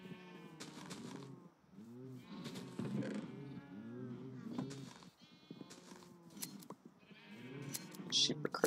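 Sheep in a strategy video game bleating repeatedly, short wavering cries in quick succession, fairly close, with a person talking over them at times.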